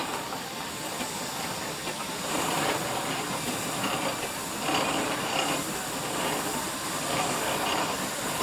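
Steam engines and road rollers, including Waverley and Porter engines, at the Wiston Steam Rally give off a continuous steam hiss with slow surges in loudness, steady and unbroken with no talk.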